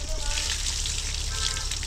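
Water from a pump motor at a petrol station gushes steadily onto someone bathing beneath it, a loud close splashing rush with a low motor hum underneath and a voice speaking over it.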